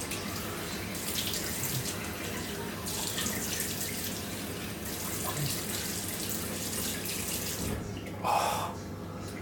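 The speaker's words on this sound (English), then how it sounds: "gonna do a warm water rinse and then a cold water splash" A bathroom tap runs a warm water rinse after a wet shave with a Razorock Baby Smooth safety razor, making a steady, close splashing flow with a brief louder slosh near the end.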